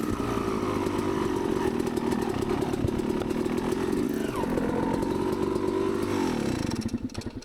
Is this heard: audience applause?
no